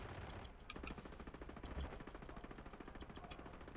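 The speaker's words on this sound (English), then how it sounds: "He's on top shooting you." Gunfire in the video game Warzone 3, Plunder mode: a long run of rapid automatic shots, fairly steady in rhythm and faint overall, with no talk over it.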